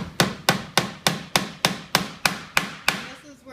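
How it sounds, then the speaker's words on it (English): A tack hammer drives nails into straps on a Ford Model T touring top, ten evenly spaced sharp taps close up, each ringing briefly before the next. "I've stapled it, and I'm going to reinforce it with some nails."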